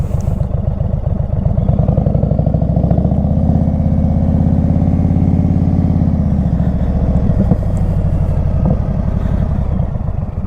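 An Indian Super Chief Limited motorcycle rides along with a steady, loud low engine drone and a rumbling exhaust that rises slightly midway and holds, continuous and close, with no talking.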